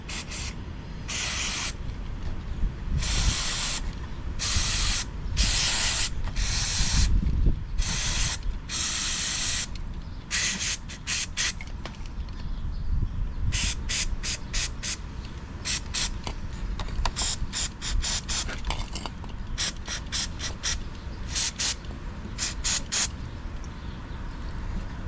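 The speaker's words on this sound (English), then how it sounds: "we're going to just give it a bit of a clean with some EGR cleaner" Repeated short hisses of EGR cleaner sprayed from an aerosol can onto an engine sensor of an Alfa during a service, bursts of varying length in an irregular rhythm, close and fairly loud with faint mechanical clicks between.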